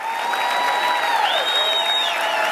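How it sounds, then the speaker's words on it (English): A large audience at a company presentation claps steadily and densely, with crowd noise running underneath and a high feedback-like tone ringing through. "Keep your hands clapping for all the new family members joining this team"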